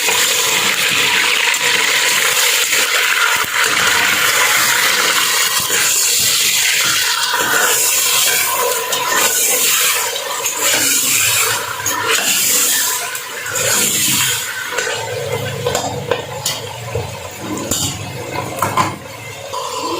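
Pieces of meat with garlic-ginger paste dropped into hot oil, frying with a loud, steady sizzle and crackle that fills the whole stretch, close up and without speech.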